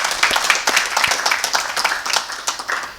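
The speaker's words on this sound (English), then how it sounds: "So can we give a very hearty clap" An audience at a school-reopening address breaks into hearty clapping, a dense patter of many hands that stays steady and near for several seconds with no talk over it.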